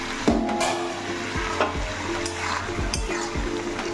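Loitta (Bombay duck) fish being sautéed with spices in a pan releasing lots of water, giving a steady, close sizzle broken by repeated scraping, knocking stirs.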